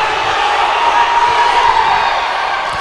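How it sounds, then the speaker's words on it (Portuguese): Futsal crowd at a Copa Cariri match in an indoor gym jeers and shouts loudly, producing a dense, continuous roar throughout with no clear breaks. "E a torcida xinga"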